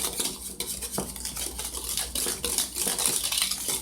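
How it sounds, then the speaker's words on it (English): Quick metal whisk strokes clatter against a bowl as flour and sugar are mixed for a blueberry cobbler, a rapid irregular scraping and tapping, close and steady with no talking. "And you just whisk that together."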